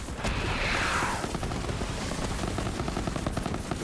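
Rapid machine gun fire in the video game Borderlands 3, a dense, loud, unbroken stream of close shots with a sweeping whoosh early on and booming layers beneath, with no voice over it.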